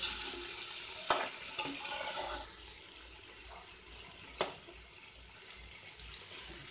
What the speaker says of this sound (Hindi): इधर साइड में ही हम गरम मसाला और ये ज़ीरा डाल देंगे और इसे हल्का सा चला लेंगे।